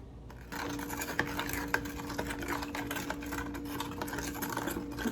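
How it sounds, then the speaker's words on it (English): A spoon stirs sugar dressing for cucumber salad in a mixing bowl, with continuous swirling scrapes and occasional light taps against the bowl, close and fairly quiet, over a faint steady hum. "you want to try to stir until the sugar is all the way dissolved"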